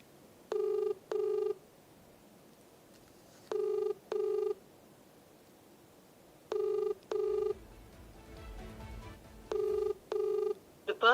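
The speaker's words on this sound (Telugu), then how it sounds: "సో తనైతే కాల్ లిఫ్ట్ చేయడం లేదు" A telephone rings unanswered, four paired bursts of ringback tone repeating at steady intervals, with a brief low rumble of background noise between the third and fourth pairs.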